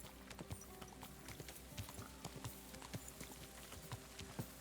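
A horse in the video game Kingdom Come Deliverance 2 walks steadily along a trail, its hooves clip-clopping in an even rhythm, soft and fairly close over quiet ambience.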